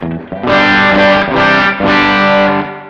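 A close, loud electric guitar plays a few sustained, distorted chords through a JOYO Oxford Sound amp modeling pedal, with a bright, biting edge.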